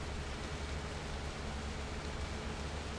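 Steady rain in the farming video game Cattle and Crops, heard as a constant, even hiss of falling water with low rumble beneath, no voices and no variation throughout.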